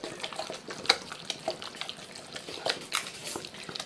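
A spoon stirs tomato puree into a legume lasagna mix, giving soft wet scraping and squelching strokes at an uneven pace, close and fairly quiet.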